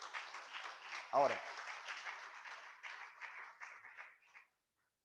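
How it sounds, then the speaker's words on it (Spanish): A church congregation applauds in a steady wash of clapping that thins out and stops near the end, with a voice speaking over it. "Denle otro aplauso."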